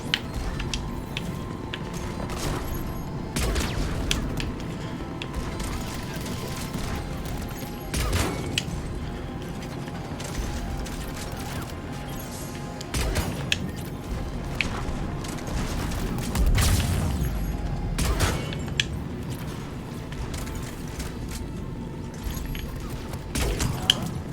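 Rapid bursts of spaceship cannon fire in a sci-fi video game, with repeated booming shots over a dense, continuous battle din, loud and sustained throughout with occasional heavier impacts.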